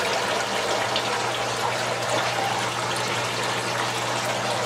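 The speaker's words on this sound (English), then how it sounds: "Everybody's draining into the drain pipe and heading back to the basin." Water drains steadily from Dutch buckets into a hydroponics drain pipe on its way back to the basin, a continuous close rushing trickle with no talking over it.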